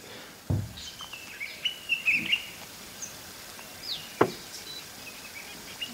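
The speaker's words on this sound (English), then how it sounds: "orange-breasted scrub robin" Scattered thin, high calls of an orange-breasted scrub robin chirp over a faint outdoor hiss, with a couple of sharp knocking sounds in the background.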